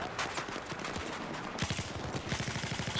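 Rapid automatic rifle fire in Battlefield 4, steady rattling bursts that grow sharper and more rhythmic in the second half, fairly close, over a busy combat background.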